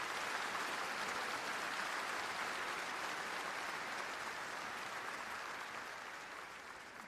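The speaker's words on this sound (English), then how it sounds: "Please offer a round of applause for these university leaders." A commencement audience at Auburn University applauds its university leaders, a broad wash of clapping from a large hall that holds steady, then tapers off slightly toward the end, heard at some distance.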